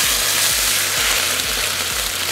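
Chopped onion sizzles steadily in a frying pan, a constant bright crackle close by, with a faint low rhythmic thump repeating beneath it and no talk.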